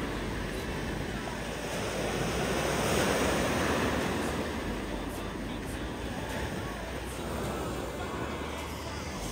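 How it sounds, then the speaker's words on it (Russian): Sea waves wash continuously onto the shore near Odessa, a broad, even roar of surf that swells slightly early on, with no voices over it. "И это что, море меня так успокаивает"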